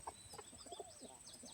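Two roosters in a backyard farm coop with nesting boxes give short clucks and throaty calls close by, broken bursts over a quiet background with higher bird chirps mixed in.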